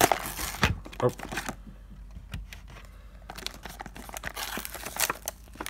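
A Pokemon card pack is torn open up close, with crinkly foil ripping in two bursts around a quieter pause; a person gives one brief exclamation.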